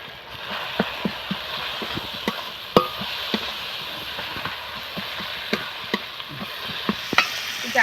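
Turmeric and chili powder frying in a pan for an egg and eggplant dish, a steady soft sizzle with regular clicks of stirring against the pan, no voices.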